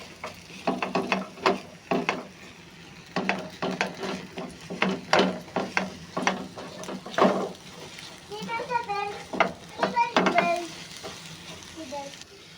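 Beaten egg frying in hot oil in a pan while being stirred constantly, a steady sizzle broken by repeated rhythmic scraping strokes of the spatula, close and fairly loud.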